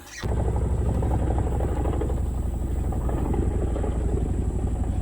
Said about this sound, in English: Here it is, big old Chinook.